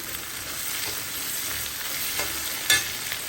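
Onions frying and being stirred in a pan with salt for a jackfruit seed masala curry, a steady close sizzle with scraping stir strokes and one sharper clatter near the end.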